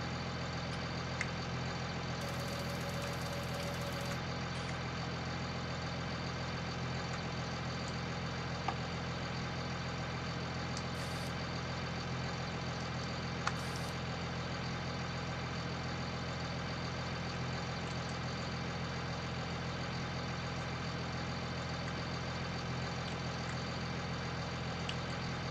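A farm tractor engine idles steadily for the whole stretch, a constant low mechanical drone with faint clicks and no speech.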